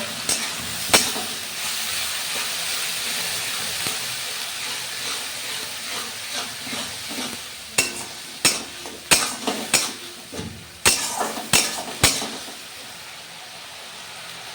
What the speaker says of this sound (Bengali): পেঁয়াজ বাটাটা দিয়ে ভালোভাবে নেড়ে চেড়ে মশলাটা আমি কষিয়ে নেবো